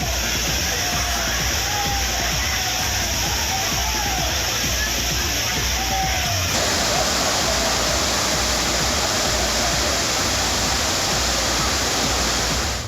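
Rushing water at the Courtallam waterfalls in Tenkasi, running high after rain, gives a steady, loud, unbroken roar from start to finish, with a faint murmur of people underneath.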